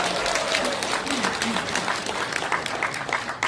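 An audience at a district political event claps to welcome the mayor of Gwanak district, a busy burst of applause with crowd noise and a voice speaking over it.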